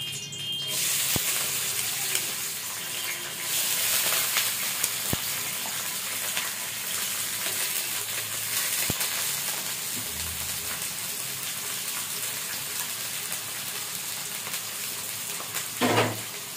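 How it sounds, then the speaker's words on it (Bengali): Green chilies, chopped onion and garlic frying in hot oil, ready for cooking leafy greens, give a steady, close sizzling hiss that runs the whole time, with a few brief clicks and a louder spatter near the end. "এখানে আমি কাঁচামরিচ, পেঁয়াজ কুচি আর রসুন কেটে নিয়েছি। এগুলো আমি গরম তেলে ছেড়ে দেবো।"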